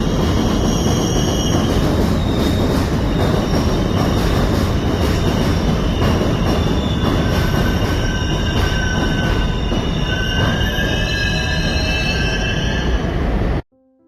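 A train rumbles loudly past nearby on an elevated bridge in New York City, wheels squealing and metal clattering steadily for the whole stretch before it cuts off abruptly.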